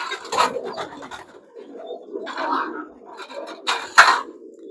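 Pigeons in a loft during rain give low, rolling coos in several separate bouts, close and moderately loud, with a faint voice in the background.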